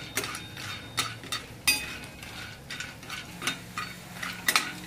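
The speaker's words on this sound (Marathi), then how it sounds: "असे आपल्याला टाकल्यानंतर सारखे हलवत जायचे, म्हणजे चौकडून चांगले भाजतात बघा लालसर एकदम." Sandge, sun-dried lentil dumplings, roasting in a little oil in a pan and stirred constantly, with repeated scraping and clinking strokes from the spoon over a soft sizzle.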